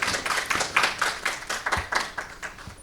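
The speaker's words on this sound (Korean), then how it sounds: "다시 한번 뜨거운 박수로 여러분들 감회해 주시면 좋겠습니다" Conference audience at an ESG forum gives a short round of applause, distinct claps in a loose, uneven rhythm, moderately close and clear with no talk over it.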